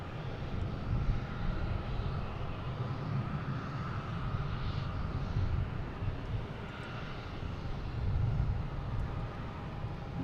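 A JetBlue airplane at Boston Logan International Airport, a continuous low rumbling engine roar that swells slightly midway and again near the end, with no voices.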